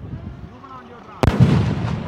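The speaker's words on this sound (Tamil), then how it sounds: "அதே இதில் 2 வெடி இருந்துச்சு பார்த்தீங்களா, 2 வெடி போட்டுரும்" Sivakasi skyshot firecracker test: a hush of open-air background, then one sharp, loud burst followed by a rumbling tail, with faint voices in the background.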